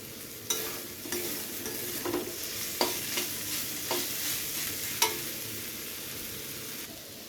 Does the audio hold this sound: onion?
yes